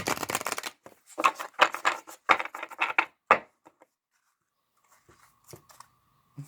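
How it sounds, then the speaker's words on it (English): Tarot cards, slightly sticky, are shuffled by hand in several quick riffling bursts, close and crisp, then a few faint taps and rustles as they settle. "Let me shuffle again. They're kind of sticky."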